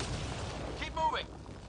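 A lightning strike cracks during a storm on Habitat 7 in the video game Mass Effect Andromeda, a sharp, loud burst about a second in that rises over a steady rumbling background of in-game ambience.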